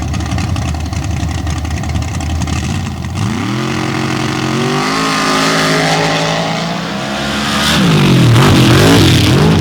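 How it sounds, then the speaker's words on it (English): Loud pro stock drag race cars roar off the line, engines climbing in pitch as they launch over a constant crowd-like rumble. "Greg Booker blistering the track, a much straighter ride."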